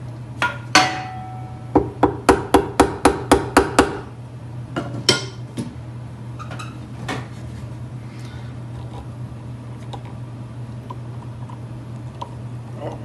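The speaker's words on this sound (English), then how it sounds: "Give this a little wrap with the hammer." Sharp hammer taps on an antique wooden carpenter's tool box, a quick run of about eight even knocks followed by a few scattered taps, close and crisp over a low steady hum.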